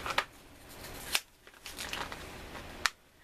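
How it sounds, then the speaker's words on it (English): A clock's power cord is cut, with a few crisp snipping clicks and rustling crinkles of handling, quiet and close with no voices. "we're going to cut the cord"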